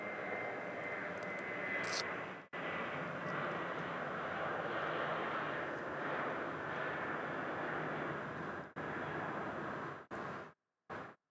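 An airplane at Phoenix Sky Harbor Airport, a broad steady engine roar held for several seconds, then cutting out abruptly in brief gaps near the end.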